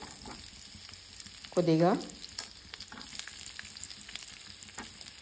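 Sliced onions and green chillies frying in oil for vegetable pulav, a steady close sizzle with stirring scrapes, while a voice speaks briefly over it.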